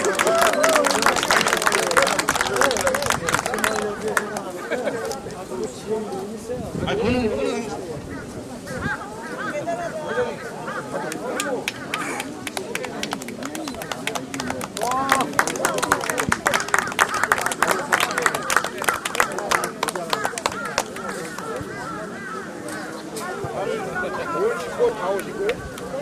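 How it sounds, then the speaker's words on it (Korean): Crowd clapping and cheering for a guest of honour at an outdoor community sports festival, steady dense applause mixed with loud babble of many voices, continuing at roughly even strength throughout. "자, 큰 박수 한번 보내주세요."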